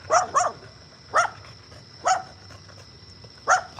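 A dog barks in short bursts, about five barks spaced irregularly over a few seconds, at moderate distance over a faint background hum.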